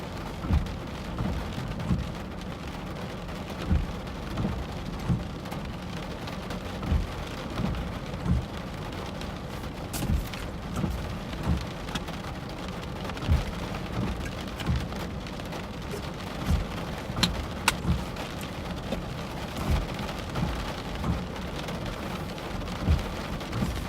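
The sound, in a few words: rain falling during a thunderstorm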